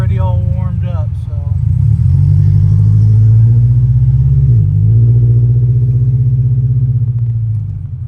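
A supercharged widebody Scion FRS, already warmed up, idles loud and close with a steady low rumble and a brief dip midway.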